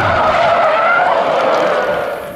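A toy race car skids loudly in a steady, continuous screech close by, fading slightly at the end, with no talking.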